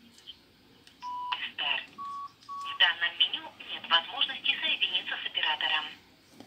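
Nokia 6610 mobile phone making a call: a few keypad beeps followed by a fast run of tones, with faint talking in a quiet room.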